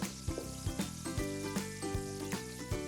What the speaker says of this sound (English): The tikkis are being fried.